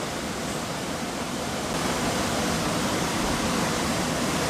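A waterfall gives a continuous, loud, even rush of falling water with no pauses, heard alone.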